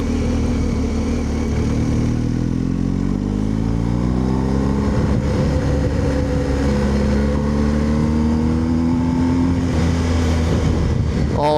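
A BMW R1250 GS Adventure motorcycle's engine note rises and falls through gear changes while riding a country road, loud and continuous with heavy wind noise and no talking.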